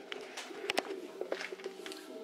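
Pigeons coo inside an abandoned church, giving soft repeated throaty calls in short bursts, fairly close and echoing a little over a quiet background.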